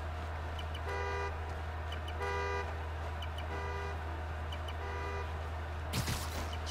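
A car horn in the Spider-Man: Miles Morales video game sounds in four short, evenly spaced blasts about a second apart over a steady low hum, followed by a brief noisy burst.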